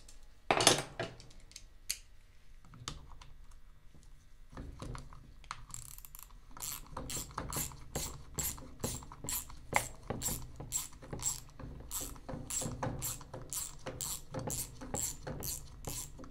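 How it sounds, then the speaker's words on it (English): A hand ratchet clicks steadily while loosening bolts on a differential case, with rapid repeated pawl clicks in short bursts, close and fairly crisp, after a few scattered metallic knocks at the start. "There's my ratchet."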